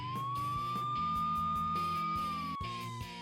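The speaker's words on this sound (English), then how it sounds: "the noise from those police cars with their flashing lights" A loud, steady electronic siren wails continuously with a sustained pitched tone over rhythmic music, a police car siren in the video game Vampire's Melody.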